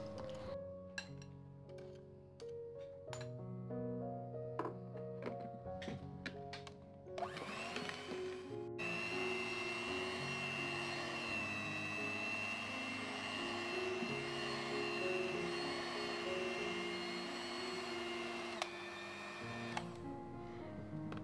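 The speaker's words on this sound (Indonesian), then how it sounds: "Tambahkan sisa margarin yang separuh tadi, kemudian kita mixer sampai adonannya kalis." An electric mixer runs steadily, kneading bread dough with margarine for roti, a continuous motor whir with dense broadband noise, preceded by a stretch of music and clattering.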